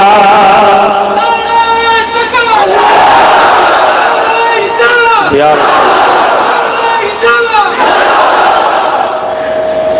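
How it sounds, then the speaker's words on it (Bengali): A large crowd at a religious gathering loudly chanting Subhanallah in unison, swelling voiced shouts repeated in several surges, close and powerful. "আরো জোরে বলুন সুবহানাল্লাহ"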